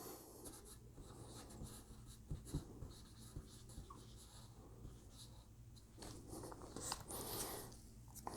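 Marker squeaking and scratching across a surface while writing, soft continuous strokes close by over faint room noise, with no speech.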